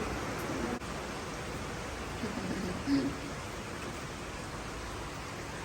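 Steady, dense rain pours down in a continuous broadband hiss, with a brief soft thump partway through and no voices.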